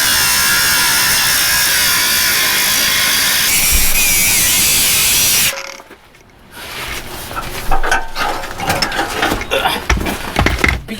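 A cutoff wheel grinds through the metal of a Chevy Squarebody truck near the gas tank, a loud, steady abrasive whine that cuts out abruptly midway, then gives way to clanking and rattling metal.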